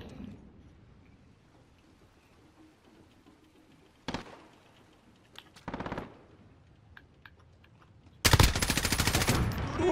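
Shooter video game gunfire: faint scattered distant shots, then two sharp close automatic bursts, and finally a long, loud, sustained stream of rapid fire close by.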